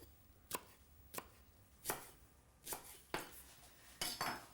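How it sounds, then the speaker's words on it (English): A knife chops chilli and spring onion finely on a board in a home kitchen, six sharp separate knocks at an uneven, unhurried pace, close and clear with no talking. "And spring onion as finely sliced as you can muster."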